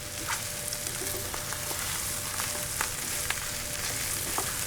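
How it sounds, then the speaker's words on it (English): Par-cooked rice toasting in a pan with onions, jalapenos, pepperoni, mushroom and tomato sauce, giving a soft continuous sizzle dotted with light clicks of a utensil, close and steady, without talk. "to get and work these flavors into and almost toast the rice while it's in this pan"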